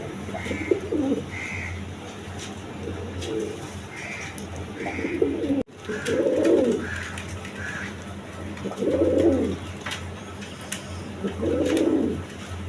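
A pair of blue shirting pigeons coo nearby, low throaty coos recurring every few seconds, mixed with softer higher chirps and a steady low hum in the background.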